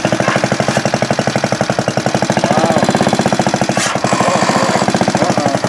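An antique moto-mower's small engine runs loud and close, with a rapid, steady, hammering chug of evenly spaced firing pulses across the whole stretch, plus a brief clatter near the end.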